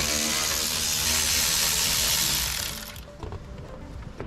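Torx screws being backed out of the shifter console of a BMW F80 M3, a loud steady power-driver whir for almost three seconds before dropping to quieter clicking and mechanical handling.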